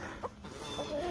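Backyard chickens at feeding time give a quick pair of close clucks, short and throaty, with a thin squeaky bird note trailing at the end.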